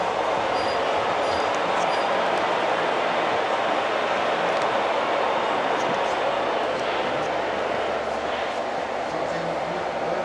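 Continuous whirring rumble of small trains running along track, steady and fairly loud, with faint clicking over the top.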